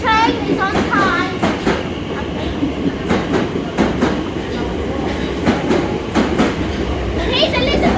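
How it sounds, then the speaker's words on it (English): An Elizabeth Line train pulls into a London station with rhythmic clickety-clack of wheels over rail joints, a loud rolling rumble and brief high squeals, with a person talking nearby. "This train is on time."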